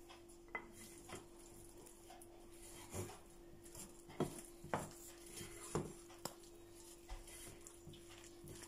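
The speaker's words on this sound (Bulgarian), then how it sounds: "разбъркайте добре" A spoon scrapes and clinks against a pot while flour is stirred into onion and green pepper, irregular knocks and taps over a faint steady hum, fairly quiet and close.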